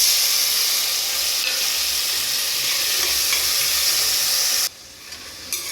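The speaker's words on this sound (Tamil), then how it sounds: "தக்காளி வெங்காயத்தையும் நல்லா வதக்குங்க." Onions and tomatoes sautéing in a pan for mutton leg soup, a loud bright sizzle with light stirring, dropping suddenly to a quieter hiss near the end.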